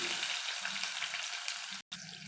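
Onions frying in hot oil with mustard seeds for a spicy tamarind-style kuzhambu, a steady loud sizzle throughout with a brief break near the end.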